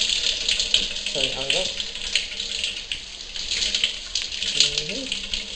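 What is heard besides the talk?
hot water running from tap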